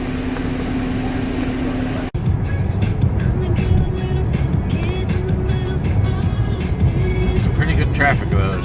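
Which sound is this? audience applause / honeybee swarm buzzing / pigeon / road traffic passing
road traffic passing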